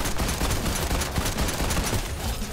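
Gunfire in the Fortnite video game, a dense, rapid burst of overlapping shots that rattles on continuously and loudly for the whole stretch.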